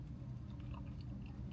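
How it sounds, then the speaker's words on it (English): Close, crunchy chewing on a Sonic smasher burger topped with tortilla strips: a dense run of soft crunches and mouth sounds, with no talking. "I do like that crunch of that tortilla strip I just got though"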